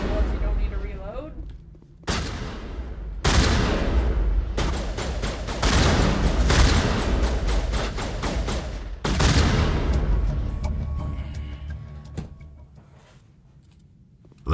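Energy weapon gunfire in the video game Mass Effect: loud, close, rapid bursts in sustained volleys, broken by brief pauses and a quieter tail near the end.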